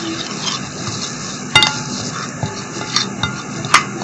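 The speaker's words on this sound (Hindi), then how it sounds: "Lemon juice, oil. अब इसको अच्छी तरह मिक्स कर लेंगे।" Chicken is mixed by hand with soy sauce, lemon juice and oil in a bowl, producing close wet squelching and rubbing with a few sharp clinks against the bowl, and no talk.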